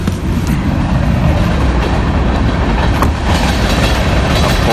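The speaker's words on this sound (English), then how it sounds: "Of course, train." A train rolls past close by, a loud continuous rumble with rattling wheel clatter, steady throughout.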